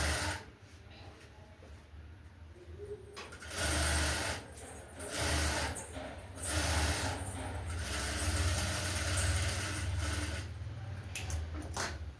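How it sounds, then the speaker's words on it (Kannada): A sewing machine stitches the sleeve seam of a blouse, its motor whirring in continuous runs with short pauses between bursts, close and fairly loud. "ಈಗ ಮತ್ತೆ ಇನ್ನೊಂದು ಹೊಲಿಗೆಯನ್ನು ಹಾಕ್ಕೊಳ್ತೀನಿ"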